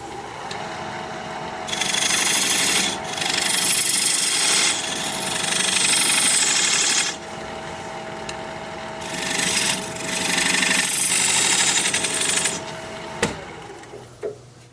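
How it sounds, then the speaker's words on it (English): A diamond point scraping tool cuts and squares the sides of a sea grape wood tenon on a spinning lathe, giving a loud, harsh rasping scrape in several long bursts with short pauses, over a steady motor hum. "Now I'm going to use this diamond point tool to square up the sides of the tenon"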